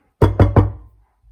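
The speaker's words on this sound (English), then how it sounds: "Knock here. I think knock." Three quick, firm knocks on a door in a house in Nairobi, evenly spaced and close, followed by silence.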